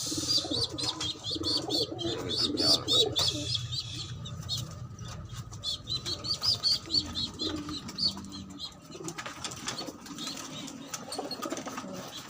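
Soft pigeon coos repeat among chirps and occasional wing flaps, nearby and steady, with outdoor background noise and no speech.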